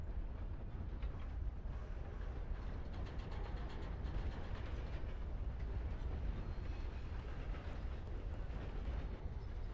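In the RedM video game, a train rumbles along the tracks in a steady, dense roar that stays constant from start to finish, with no voices over it.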